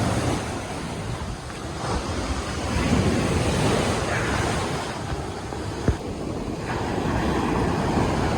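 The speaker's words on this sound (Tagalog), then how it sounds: "Laki ng alon." Big ocean waves crash continuously on Boracay, a loud broadband roar of surf with wind rushing across the microphone and one sharp knock partway through.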